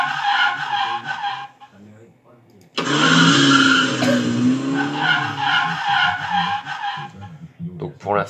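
A racing car in the Spin to Race slot video game roars and skids in loud synthetic bursts, with a short lull before a long sustained engine-and-tire section, while someone talks over the game sounds.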